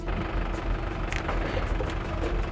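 A tractor engine runs close and steady, a continuous low rumble with a rough, knocking throb that never lets up.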